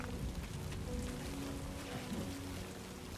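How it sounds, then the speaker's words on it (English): Rain falls steadily in the video game Death Stranding 2, a soft continuous hiss with a low rumbling bed, quiet and even throughout with no talk. "I'm not sure if the rain makes things harder to climb."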